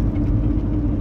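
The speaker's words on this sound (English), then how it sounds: "I just got on the M4, driving down now towards rush hour" A motorhome cruising along the M4 motorway gives off a steady low engine rumble and road roar inside the cab, constant and fairly loud, with no voices.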